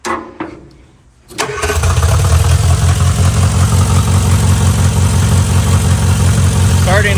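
An Austin-Healey Sprite engine cranks and fires after a short near-silent pause, then settles into a loud, steady running idle close by during a generator test.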